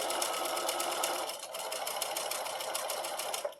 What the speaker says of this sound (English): And then I'm going to start sewing clear down here.